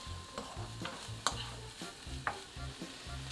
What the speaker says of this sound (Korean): 끝으로 양파를 넣고 볶아줍니다.